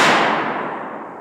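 A black powder rifle fires at a deer during a hunt, a single loud, sharp report at the very start that decays into a long, rumbling echo over about a second.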